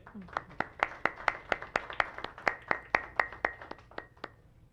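A small audience claps at a cybersecurity and operational intelligence congress in the Dominican Republic, with about eighteen distinct, evenly spaced hand claps sounding fairly near and moderately loud before fading out.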